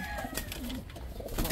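A pigeon in a breeder cage coos close by in a soft, low call that rises and falls. Other faint bird calls and light rustling sound behind it.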